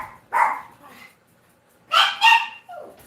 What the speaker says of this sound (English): I hear my dogs go a little crazy.